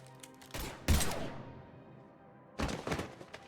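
Gunfire in Mass Effect 3 erupts in two short, loud bursts of rapid shots with a fading tail between them. The scene is otherwise quiet.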